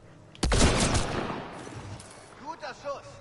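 Gunfire in the sci-fi shooter Mass Effect Andromeda: a loud burst of shots near the start, fading into a rumbling tail, with short game voice or effect chirps toward the end.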